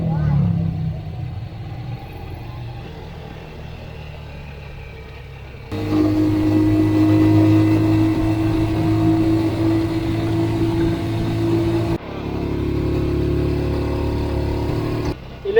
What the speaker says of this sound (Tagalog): Traffic na talaga dahil tanghali na.